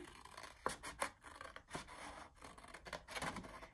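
Scissors snip through printed patterned paper in a few close, crisp cuts with short rasping slides between them, quiet and without talk.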